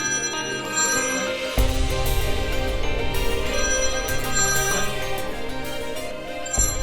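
A mobile phone ringtone plays a repeating electronic melody at a moderate level, with no talking over it.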